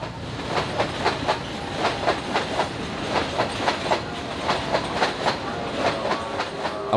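A freight train passes a station in India, its wheels beating out a loud, rhythmic clickety-clack over rail joints in steady repeating pairs, close by and without voices.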